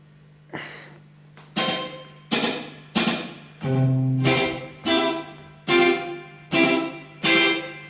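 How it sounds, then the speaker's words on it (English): Electric guitar through an Echolette NG 51 tube tape echo set for slapback, a series of about eight loud plucked notes and chords at a steady pace, each followed by a short tight repeat. "So, like a slapback."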